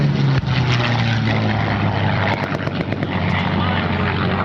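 A P-51 Mustang fighter roars past low over an air show crowd on a strafing pass, its propeller engine a loud, steady drone that fills the whole stretch, with a voice talking over it.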